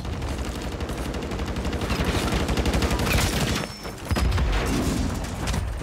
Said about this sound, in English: as soon as I start moving, this kid starts shooting me